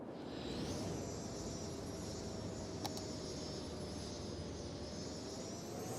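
Airplanes fly low over a city in the Cities: Skylines video game, giving a steady, loud broadband engine roar with a high whine that holds throughout and no talk.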